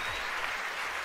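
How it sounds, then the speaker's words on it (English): Applause from a crowd at a SpaceX Falcon Heavy launch, a steady, dense wash of clapping filling the short moment without a break, moderately distant and unaccompanied by speech. "You can hear the applause behind me as we've gotten past maximum dynamic pressure"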